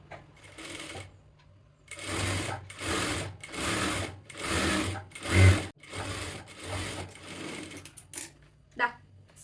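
A sewing machine stitches a sleeveless kurti in several loud, close bursts of rapid whirring, stopping and starting with short pauses between runs.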